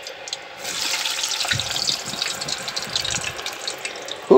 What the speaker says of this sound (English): Now we can put all of our chips into the pot.